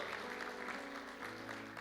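A church congregation applauds faintly, giving a soft, diffuse wash of clapping beneath sustained low tones, steady and distant throughout.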